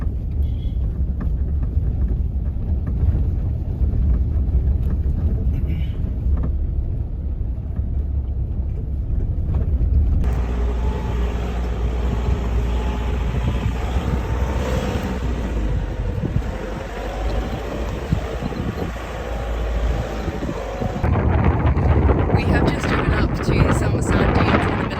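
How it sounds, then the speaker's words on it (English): Heavy wind buffets the microphone in loud, low rumbling gusts on a town outskirts in Afghanistan, swelling and persisting throughout, drowning out other sound. "Unfortunately, it was so windy that you could not hear anything I was saying in the next minute-long clip."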